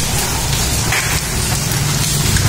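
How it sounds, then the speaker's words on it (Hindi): Heavy rain mixed with hail pours down in a steady, dense roar during the first summer rain, loud and continuous throughout with no voices. "अभी जो बारिश है बहुत तेज़ हो रही है"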